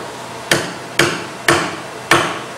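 Wooden chair leg driven into its seat: four sharp, evenly spaced hammer blows about half a second apart, loud and close, each with a short decaying ring.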